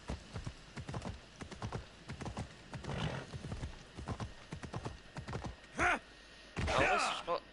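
A horse in the video game Assassin's Creed Odyssey gallops with rapid, rhythmic hoofbeats and gives two loud whinnies near the end, all heard clearly up close without talk.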